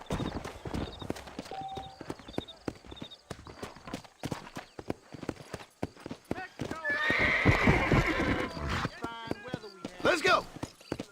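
A horse in the video game Red Dead Redemption neighs and clip-clops, hooves thudding in a quickening rhythm as it sets off into a gallop, with a rider's spoken urging and dialogue over the hoofbeats.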